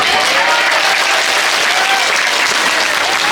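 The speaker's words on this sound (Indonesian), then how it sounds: "Tepuk tangan buat nenek." A large crowd at an Isra Mi'raj gathering in a mosque claps loudly, a dense, constant roar of applause, with cheering or raised voices mixed in.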